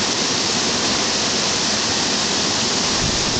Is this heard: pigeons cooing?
no